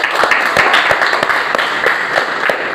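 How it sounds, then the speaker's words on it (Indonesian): Audience applause at the close of an accounting class session, a steady patter of hands clapping near and moderately loud for nearly three seconds with no talk over it. "kasih tepuk tangan semua"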